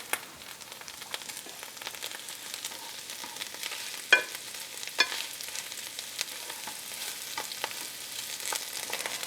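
Butter melting and sizzling in a pan for German kale stew, a steady soft crackle with scattered sharper pops and spatters, close and moderately quiet with no voices.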